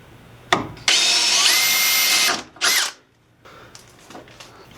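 A power drill bores through the sheet metal of a GC8 Subaru stage rally car during brake line repair, a short blip followed by a loud sustained whine, a brief stop, another short burst, then quiet.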